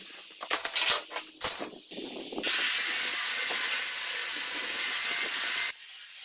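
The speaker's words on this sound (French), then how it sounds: "on va attaquer un léger ponçage" Light sanding of glued wooden shutter halves made from reclaimed floorboards, a few short scrapes and knocks followed by a long steady abrasive hiss that runs for about three seconds and then stops, close and fairly loud.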